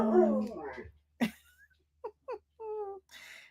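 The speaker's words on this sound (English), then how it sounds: "she'll start howling" A dog at home gives short whines and yips that rise into brief, tonal howl-like wails, fairly close and loud. A person's voice is heard at the start, before the dog's sounds.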